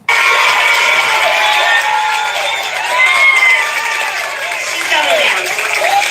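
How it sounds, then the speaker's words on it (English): Crowd cheering and shouting at a political rally, a dense wash of many voices with whoops and yells rising and falling continuously, loud and close throughout. "Now look at the crowd cheering"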